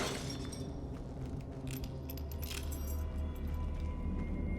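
Keys are picked up in the horror game The Evil Within, giving bright metallic jingles and clinks in several quick bursts over a dense, steady low background rumble.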